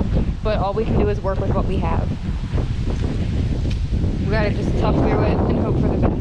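Steady gusting wind buffets the microphone outdoors on a small drought-stricken farm, a loud continuous rumble with rustling underneath while a person talks throughout.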